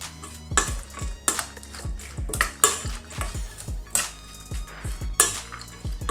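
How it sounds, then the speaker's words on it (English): Coleslaw of shredded cabbage, carrot and onion with mayonnaise, stirred in a bowl, giving repeated close clanks and scrapes of a utensil against the bowl in an uneven rhythm, fairly loud and without speech. "Give this a really good mix."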